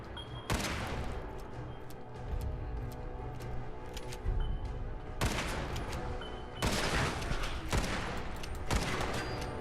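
Gunfire in the video game Fallout 4: Far Harbor: repeated loud bursts of shots, dense and close, in several rapid clusters across the stretch with no one speaking.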